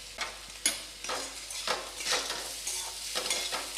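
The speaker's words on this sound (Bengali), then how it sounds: "এটা ভালো করে ভাজবো" Potatoes fry with cumin powder and a little sugar for jeera aloo, with repeated scraping strokes of a spatula stirring over a soft, steady sizzle.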